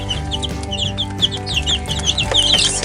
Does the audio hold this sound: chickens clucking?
yes